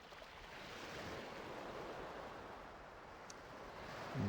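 Steady ambient water noise from the Atari Jaguar CD game Elansar, a soft, continuous surf-like wash that holds evenly throughout without speech.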